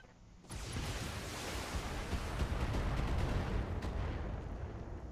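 Missile salvo launching in the mech strategy game Battletech: a sudden onset into a sustained, roaring rush of rocket fire with crackling bursts, loud and continuous for several seconds.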